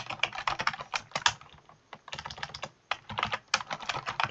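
Code being typed on a computer keyboard during a string-search programming walkthrough: close, rapid, uneven clatter of keystrokes in bursts, with short pauses between runs.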